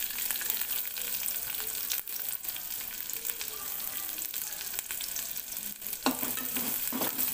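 Onion fries in oil in a pot with curry leaves and garlic, giving a dense, close crackling sizzle with scattered pops and scraping stir strokes near the end, with no speech.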